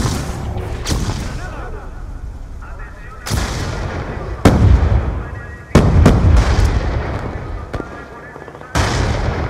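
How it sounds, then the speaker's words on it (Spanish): Grenade explosions in a video game, several heavy booms with sharp onsets and rumbling decays spread across the clip, loud and close, with gunfire-like bursts between them. "¡Granada!"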